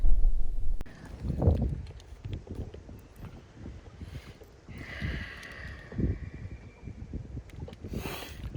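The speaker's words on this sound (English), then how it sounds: "I don't know if you could hear me for the wind" Wind gusts outdoors by a lake, a steady low rumble of wind buffeting the microphone with swells and lulls, close and moderately loud, with no voices.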